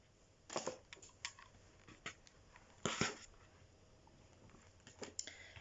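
Scissors snipping through jewellery cord during handmade necklace making, a few sharp close clicks and cuts scattered across a quiet background.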